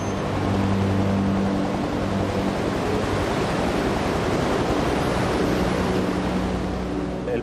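Storm waves battering a disabled, listing tanker at sea in 8 to 10 metre swells, heard as a loud, unbroken roar of surf and spray with no pauses or voices.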